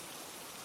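Steady rain pounding against windows at night, a dense, even hiss of falling drops, alone and fairly faint.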